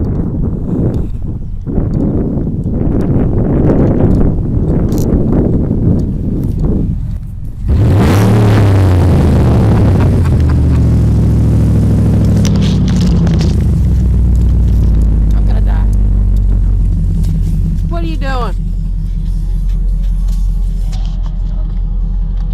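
A Ford Mustang starts up with a loud boom and settles into a steady, deep rumbling idle close by, after earlier talk and clattering noises.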